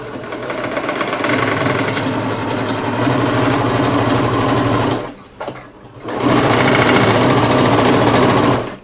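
Sewing machine stitching synthetic hair extensions, a loud close mechanical whirring run that stops briefly near the middle, then starts again at full speed.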